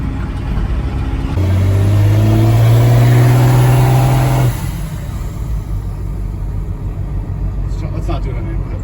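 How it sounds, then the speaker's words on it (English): A big engine turns over on a compressed-air starter and catches, giving a loud rising roar and rumble that lasts a few seconds, then drops to a steady idle. People talk nearby. "I just need to push this button that releases the air, and it turns the cylinders over and gets the motor started."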